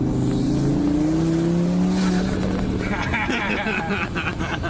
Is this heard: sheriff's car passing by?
yes